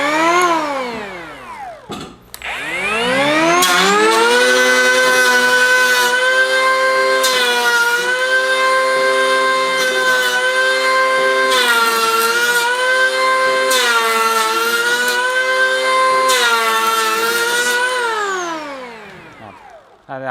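A cordless PUMA electric planer cuts wood 2 mm deep. Its motor ramps up smoothly into a loud, steady high whine, and several passes add rough cutting hiss before it winds down at the end.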